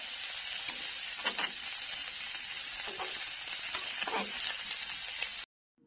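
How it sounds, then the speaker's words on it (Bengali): Chopped flat beans being stirred in a hot cooking pan sizzle steadily, with a few louder scraping stirs cutting through before the sound stops abruptly. No one speaks. "কাটা হয়ে গেলে এগুলোকে ঢেলে দেব, দিয়ে একটু ভালো করে নাড়ব।"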